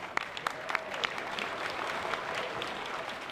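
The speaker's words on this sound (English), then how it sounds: "Let's give them a round of applause." Clapping from an audience honoring students at a Chicago gathering, moderately distant and even, with a few sharper individual claps standing out and no talk over it.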